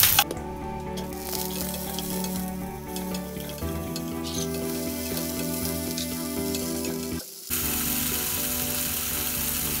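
Ginger, panch phoron and chili frying in oil in a pan, a steady close sizzle with faint clinks running the whole time, briefly dipping near the end before resuming.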